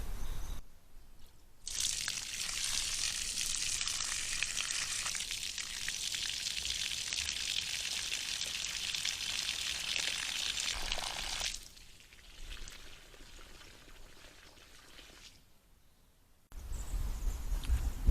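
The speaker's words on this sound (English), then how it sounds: "So we're going to turn on the water, get it cleared" Water rushing steadily through newly installed garden drip irrigation lines during a flush, a continuous broadband hiss and trickle that stops abruptly near the end.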